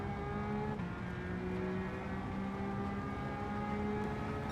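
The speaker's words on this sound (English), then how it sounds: "enjoy the beautiful engine sound of this car when revving those gears to" A RUF RGT 4.2 in Gran Turismo 7 at Fuji International Speedway screams at high revs, its engine holding a loud, steady, close note with shifting tones, the gear run heading toward 8,500 RPM.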